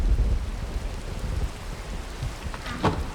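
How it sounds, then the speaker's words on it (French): A thunderstorm rolls through a video game, with heavy rain pouring steadily, deep rumbles underneath, and a sharp crack of thunder near the end. "Oh, il y a de l'orage."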